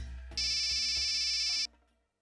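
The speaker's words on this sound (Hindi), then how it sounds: "इसी वक्त फोन आना था इसका" A mobile phone ringtone sounds for an incoming call in a TV drama scene, a steady bright electronic tone lasting over a second that stops abruptly, with low room background beneath it.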